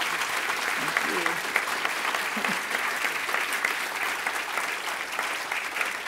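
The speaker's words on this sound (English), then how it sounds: "let's give you a round of applause" A book festival audience breaks into a sustained round of applause after an onstage talk, a dense, even wash of clapping with a faint voice briefly audible underneath.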